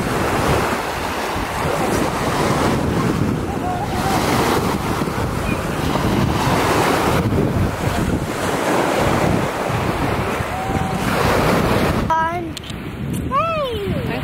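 Surf rolling onto the shore of Lake Huron on a sunny day, a steady loud wash of breaking waves with wind buffeting the microphone throughout, and brief bird-like chirps near the end.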